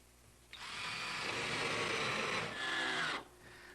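A power drill runs steadily for about two and a half seconds, driving screws into an epoxied forward king plank on a wooden sailboat, with a brief pitch shift near the end before it stops; no one speaks.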